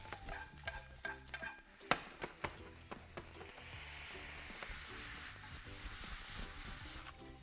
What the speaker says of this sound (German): Blumenkohl und Brokkoli scharf anbraten.